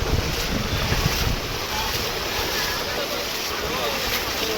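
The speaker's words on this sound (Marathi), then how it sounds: "पाण्याचा फोर्स बघा किती आहे" Floodwater rushes past in a loud, continuous roar during heavy monsoon rain in Virar, with wind buffeting the microphone throughout.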